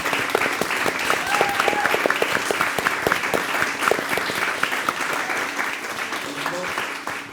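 Audience applause closing a women-in-production panel, a modest room clapping briskly with distinct claps, a few voices and whoops rising over it before it gradually softens.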